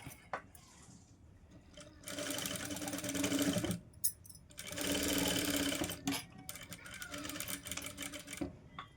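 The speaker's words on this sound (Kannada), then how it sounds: "ಇವಾಗ ಇದ್ರ ಮೇಲೆ ನೀವು ಸ್ಟಿಚ್ನ ಹಾಕೋಬೇಕು" Sewing machine stitching a katori blouse, running in two long bursts of steady rapid needle chatter separated by a brief pause, with quieter handling noise before and after.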